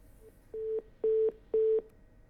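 Telephone line tone after a call drops, three steady beeps of roughly a quarter second each with short gaps, clear and isolated over faint line hiss.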